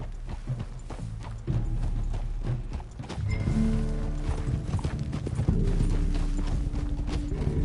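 Rhythmic clip-clop of horse hooves at a steady trot with creaking tack and a brief whinny, mixed with mechanical clatter from a PS5 video game.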